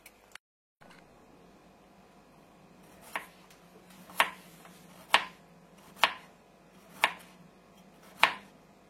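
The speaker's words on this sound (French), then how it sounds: "Maintenant, on fait pareil pour la carotte, mais on va la couper en rondelles." A knife cuts a carrot into rounds on a cutting board, six crisp, evenly spaced chops close up against a quiet kitchen background.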